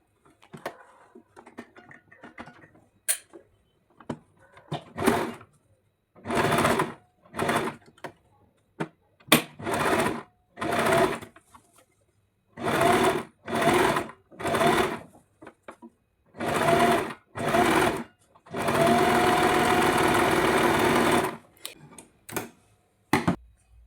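A sewing machine stitches a plain blouse in repeated loud, close bursts of rapid needle clatter, separated by short pauses and handling taps, ending in one longer continuous run.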